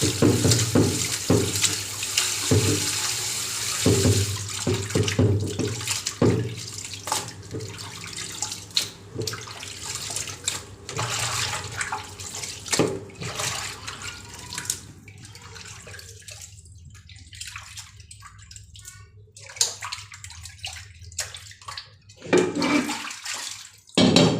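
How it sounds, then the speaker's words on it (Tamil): Raw chicken pieces rinsed under running water in a kitchen sink, a steady splashing flow with clatters and surges that quiets toward the end, close and with no talk. "ஒரு 2 தண்ணி நம்ம கழுவி எடுத்துடலாம்."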